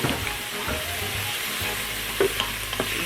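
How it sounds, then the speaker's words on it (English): Vegetables for minestrone soup sauté in an Instant Pot, giving a continuous close sizzle and hiss with a few faint utensil clicks near the end. "These are sauteing up nicely."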